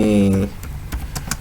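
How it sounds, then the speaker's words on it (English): A short burst of keystrokes on a computer keyboard as a name is typed, a few quick clicks following a brief voice at the start. "just come over here, type your name"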